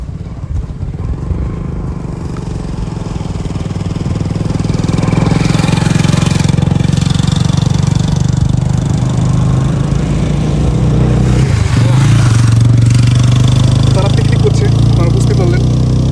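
Motorbikes riding across a dry river sandbank char near the India–Bangladesh border, a loud continuous engine drone that swells as one passes close, with someone talking over it.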